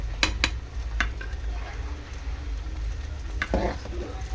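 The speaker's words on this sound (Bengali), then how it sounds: "ভাতটা একটু খুন্তি দিয়ে হেঁটে দেবো।" Cooked rice in a pot is worked with a metal spatula: a few sharp scraping clinks come early, and a louder scrape follows near the end, over a soft steady simmering hiss.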